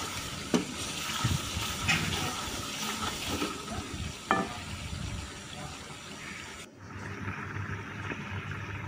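Onions frying in a pan with salt, turmeric and chili powder give a continuous sizzle broken by scattered spatula taps, cutting out briefly before the frying hiss resumes more quietly.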